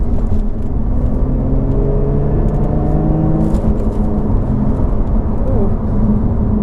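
A brand-new Lotus sports car runs in race mode with traction control off, and its engine drones loud and close inside the cabin as it pulls and gathers speed. A faint voice sits under the steady rumble.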